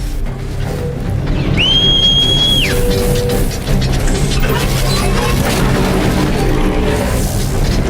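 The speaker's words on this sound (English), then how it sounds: "the whistling you're hearing was Guy calling for his mount to come" In the video game Horizon Zero Dawn, a single sustained whistle calling a mount rises and holds for about a second over loud, continuous combat crashes and booms.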